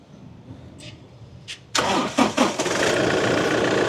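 A 2016-17 Toyota Crysta cranks briefly and its engine catches, settling into a loud, steady idle close by, with a couple of quieter clicks before it starts.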